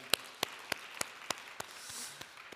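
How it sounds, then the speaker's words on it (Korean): Worshippers at a traditional Sunday church service offer applause of thanks to God, heard as a quiet, evenly spaced series of sharp unison claps, roughly three per second, over a soft background hush. "우리 하나님께 감사와 영광의 박수 올려드리겠습니다"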